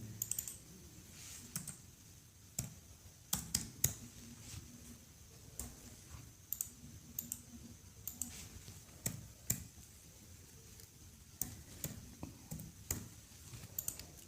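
Someone types an employee ID into an Excel sheet on a computer keyboard, with soft scattered key clicks in short irregular bursts, quiet and close, with no talking.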